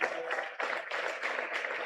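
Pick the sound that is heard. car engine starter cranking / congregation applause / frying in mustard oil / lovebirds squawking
congregation applause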